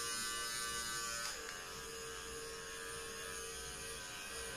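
A Skinvigorate Sonic facial brush running on its fast beat mode over the nose, giving a steady, close electric buzz with a tonal hum that holds without pause.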